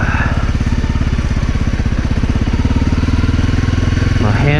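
A Honda CRF250L motorcycle engine runs on a leafy, rocky off-road trail, a loud close continuous thrum with a rapid pulsing beat, its pitch lifting near the end.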